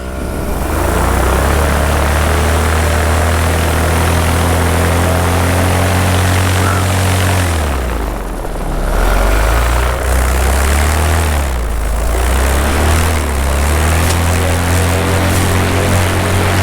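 A paramotor engine runs loud and steady on the ground before takeoff at the start of a long cross-country paramotor trip, its propeller drone holding constant with a brief dip in revs partway through and no talking.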